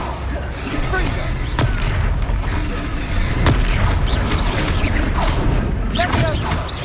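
Explosive Confringo spell blasts in the video game Hogwarts Legacy: loud, booming impacts with crashing bursts over steady combat noise, and voices shouting throughout.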